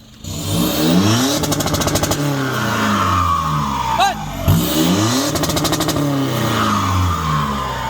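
A 2022 Isuzu D-Max Blue Power pickup's aftermarket exhaust roars as the engine revs up twice, each time hitting the limiter with a rapid stuttering crackle before dropping back.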